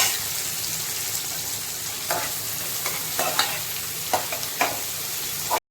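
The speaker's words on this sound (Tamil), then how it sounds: "இது கொஞ்சம் சாஃப்ட் ஆகிற வரைக்கும் வதக்குங்க." Onions sautéing in a pan for mutton kuzhambu, a steady oily sizzle with intermittent scraping stirs of a spatula, close and continuous.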